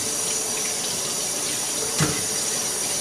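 Tap water runs steadily into a sink while peeled food is washed under it, a constant close rushing stream with a single brief splash partway through and no talking.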